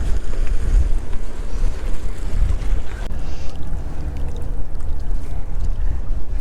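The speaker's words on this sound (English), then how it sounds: "But this wind is definitely not helping right now." Strong wind buffets the microphone in a constant low roar at a cold-weather fishing spot in Delaware, with water lapping faintly underneath and no voices.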